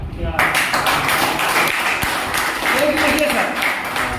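Audience applause at a company business-plan presentation, dense continuous clapping that fills the whole stretch at fairly close range, with a speaker's voice running over it.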